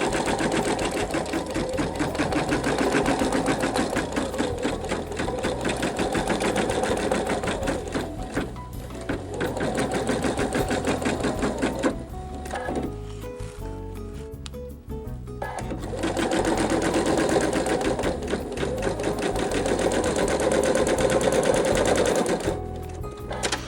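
A sewing machine stitches along the perforated edge of pieced quilt fabric, a loud, close, rapid mechanical rattle that runs steadily, pauses briefly midway, then resumes at full speed.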